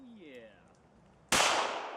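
A single loud, sharp crack from a Taurus PT 1911 pistol fired at a shooting range, following a stretch of quiet, faint background sound, with the blast's noisy tail ringing out over the final moments.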